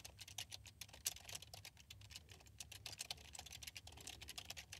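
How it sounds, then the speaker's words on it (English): Rapid typing on a computer keyboard, a steady run of close, crisp key clicks with uneven rhythm and occasional louder strokes, heard alone with no voices. "So we'll type out that instruction."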